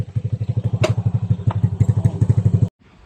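A motorcycle engine idles close by with a steady, throbbing putter, a couple of sharp clicks over it, then cuts off abruptly near the end.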